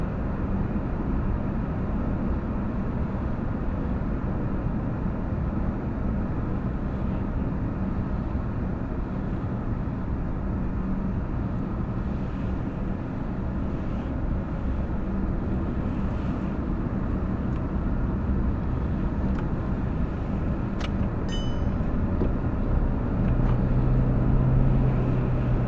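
A Mercedes-Benz W126 cruising at night around 80 km/h gives a steady low engine and road hum inside the cabin, an even, continuous drone with faint tyre and wind noise, no talking.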